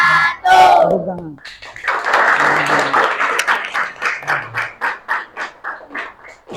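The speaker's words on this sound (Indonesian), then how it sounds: "Tepuk tangan." After a few spoken words, a group claps in steady rhythmic unison, the beats loud and close, gradually spacing out.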